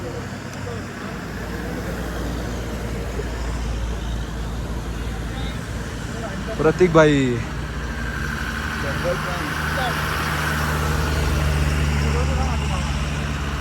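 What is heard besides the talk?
army vehicles driving up a mountain road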